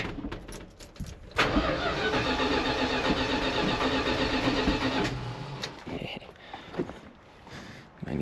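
A carbureted motor with a strong battery cranks steadily for about four seconds without catching, a loud rhythmic churn that then cuts off, followed by scattered clicks and handling noises.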